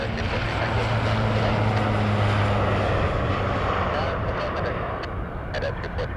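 Airbus airliner on final approach to land on runway 06 left at Montréal-Trudeau Airport, a steady roar of jet engines with low droning hum throughout, continuous and fairly loud with wind-like rush, voices faintly present.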